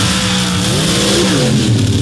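Blue Chevy-powered drag race vehicles launch at Paducah, a loud, close roar of engines rising in pitch as they accelerate away, with no talk.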